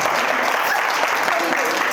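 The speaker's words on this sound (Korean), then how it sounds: "박수 한번 하겠습니다." Applause from a church young adults' group fills the room, steady and dense throughout with a few voices mixed in.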